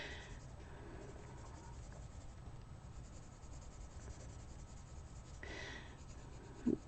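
Tombow Irojiten colored pencils scratch steadily across paper in continuous soft strokes, quiet and close, with a small knock at the very end and no talk.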